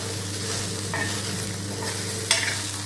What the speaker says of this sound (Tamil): அதோட தேவைக்கான உப்பு மிளகாத்தூள் சேர்த்து இன்னும் நல்லா வதக்கி விடலாம்